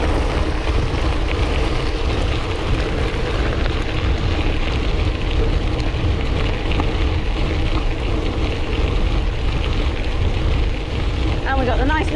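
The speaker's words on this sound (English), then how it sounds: "Noise of gravel under tyre again." Constant rough crunching and rumbling of bicycle gravel tyres rolling over gravel in Hampshire, mixed with wind noise, continuous and loud throughout.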